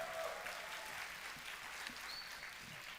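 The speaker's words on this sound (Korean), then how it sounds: "박수 받으니까 좋지" A church congregation claps during a sermon, soft and distant beneath room noise, a steady patter of many hands without talk.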